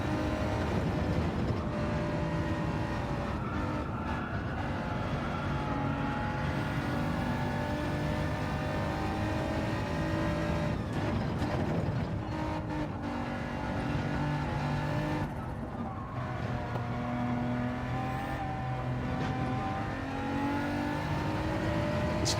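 A BMW race car engine in a racing sim revs hard and continuously, pitch climbing then dropping at repeated upshifts, with brief tire squeal and curb bumps, loud and close throughout.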